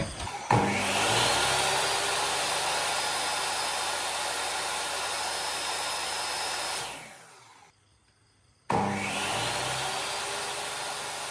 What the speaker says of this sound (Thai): เดี๋ยวมันต่อเข้าเครื่องดูดฝุ่นที่เรามี